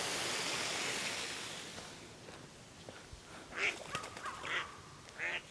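A duck near a lakeside fountain in a Russian village gives a few short quacks in the second half, moderately close, after a stretch of broad rushing water noise that fades out.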